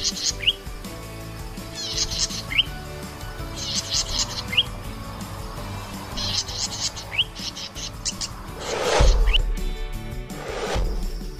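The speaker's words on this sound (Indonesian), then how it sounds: "Burung ini memiliki kicauan yang merdu dan nyaring." Small songbird singing loudly and close, bright repeated chirps and whistled phrases in bursts across the stretch, over faint background noise.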